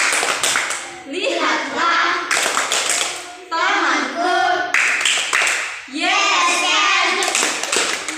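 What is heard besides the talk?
group clapping hands in rhythm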